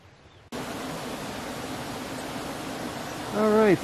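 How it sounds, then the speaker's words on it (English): Cave Creek, a mountain stream on a wilderness trail, flows with a steady broadband rush that starts abruptly after a brief quiet moment, with a bird call rising at the very end. "This is Cave Creek. It's a beautiful stream."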